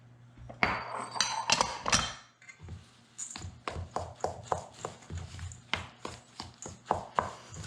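Rolled oats mixed by hand into an apple crisp topping in a bowl, with a steady series of close taps and clinks of a utensil against the dish, some louder scraping bursts early on.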